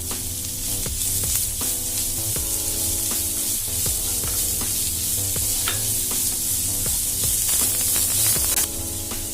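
Cabbage fries with cooked beef in a pan, giving a steady, close, hissing sizzle throughout with frequent scraping and clinking as the mix is stirred.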